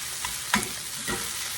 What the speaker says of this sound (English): Let them onions and peppers and that boudin cook together.